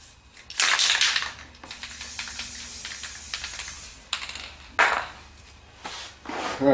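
Guide coat is sprayed onto a car body panel in short hissing bursts, loud and close, separated by quieter stretches of faint clatter.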